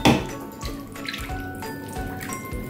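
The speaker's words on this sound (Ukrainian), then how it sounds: "І тепер ми оцю всю нашу смакоту виливаємо ось в наші тефтельки." Sauce is poured over meatballs in a pan, giving a close, continuous liquid pour and splash with some clinking of the container, steady for about three seconds.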